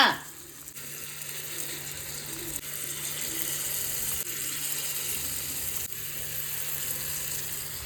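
Jackfruit seed paniyaram batter sizzles in the pan with a steady, soft crackling hiss that stays fairly faint and even, with no talk.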